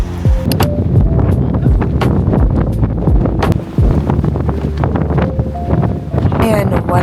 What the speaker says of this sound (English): And when I say it was windy, I mean it was windy.